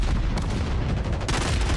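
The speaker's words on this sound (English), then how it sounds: "Stop shooting me in the back." Loud, close bursts of rapid gunfire in the shooter game Warzone, with heavy booming shots and crackling impacts running continuously, the sharpest bursts arriving early and near the end.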